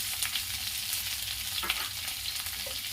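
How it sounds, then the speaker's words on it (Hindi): Capsicum sizzles and crackles in a hot pan over high flame for a mixed vegetable dish, a steady close frying hiss with a few louder pops and stirring scrapes, no voices. "इसी वक्त शिमला मिर्च डाल दूंगी। इसे 1-2 सेकंड भून लूंगी"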